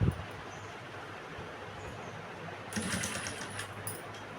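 A sewing machine with a double presser foot stitches thread piping in a quiet, rapid mechanical whir, with a faint start and then a louder stretch of stitching toward the end, heard without speech.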